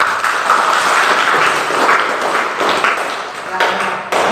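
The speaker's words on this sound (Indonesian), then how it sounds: "Tepuk tangan dulu dong." Applause from an audience at a student leadership training session, a loud continuous clatter of clapping that thins and cuts off near the end.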